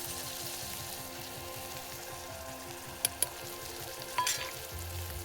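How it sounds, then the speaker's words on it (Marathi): Spices sizzling in a pan for egg Maggi cooked outdoors on a hilltop, a faint steady frying crackle with a few sharp clinks of a utensil against the pan near the end, no talk. "आता मसाले टाकून देते"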